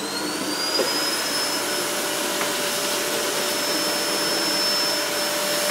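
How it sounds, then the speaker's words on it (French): An 1800-watt household vacuum cleaner runs steadily at close range, giving a loud, even whine and airy roar that holds without pause, with no talk over it. "Aspirateur maison, 1800 watts."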